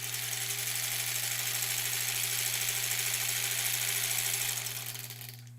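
A sewing machine runs continuously while stitching quilt fabric strips, a steady close mechanical whir with a low hum that fades out near the end.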